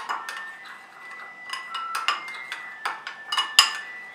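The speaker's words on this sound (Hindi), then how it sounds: "चिली गार्लिक सॉस और ओरिगानो। इसको मैं मिक्स कर लूँगी।" A spoon stirs chili garlic sauce and oregano together in a bowl, making a quick series of close, bright clinks and taps against the bowl's side in an uneven rhythm, with no talking.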